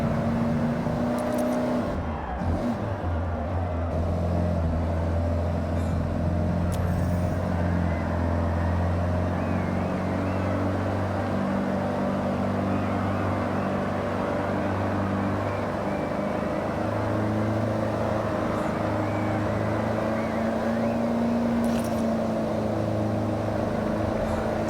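Off-road Land Cruiser truck engine in the Forza Horizon video game, a steady loud droning hum with layered harmonic tones that hold throughout, briefly shifting pitch near the start, with no talking.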